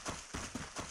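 Footstep sound effects for a character in a Unity game, quick soft thuds in a fast running rhythm, about four steps within a second, faint and without speech.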